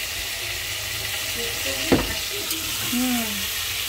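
Goat fat cooks with elephant foot yam in a home kitchen pan, giving a steady, close sizzle with a stirring clank and a brief faint voice near the end.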